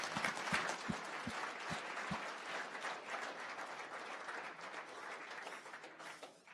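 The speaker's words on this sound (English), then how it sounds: "Let's give Philip a round of applause." Audience applause at a tech meetup, a dense, steady wash of many hands clapping that fades toward the end, with a few sharper individual claps near the start.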